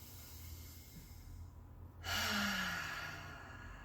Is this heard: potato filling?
no